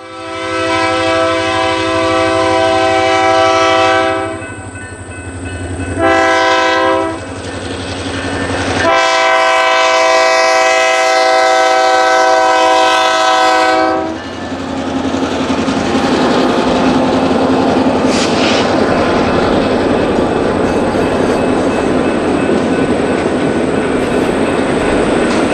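A diesel locomotive, number 700, leads a westbound train past at close range, sounding a loud sustained multi-tone horn in several long blasts, then the heavy rumble and clatter of the passing cars continues.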